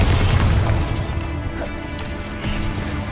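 Bombarda spell blast in Hogwarts Legacy: a loud, deep boom opens, then fades into a rumbling tail with softer crackles.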